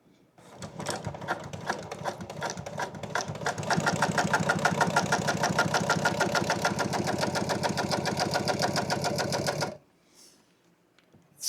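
A sewing machine stitching motorcycle seat upholstery in a double diamond pattern, a fast, even rattling run of stitches lasting several seconds before it stops abruptly, with quiet pauses before and after.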